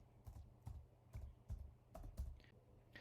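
Fingers typing a name on a computer keyboard, a handful of soft separate key taps in an uneven rhythm, quiet and close, with no voices.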